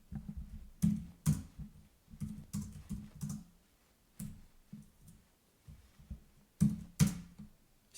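Computer keyboard typing while writing a scheduled DNS check script, heard as irregular bursts of close, crisp key clicks with short pauses, some louder strokes standing out.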